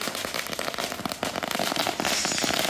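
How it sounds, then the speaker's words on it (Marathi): A rapid chain of firecrackers crackles and bangs without pause, sharp bursts overlapping loudly at an outdoor political celebration by party workers in Maharashtra. "कार्यकर्त्यांकडून फटाके फोडत जल्लोष करण्यात आला"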